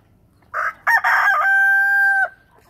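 Chickens of various breeds, roosters among them, give a loud nearby crow with a long sustained final note, preceded by short clucking calls, then quiet.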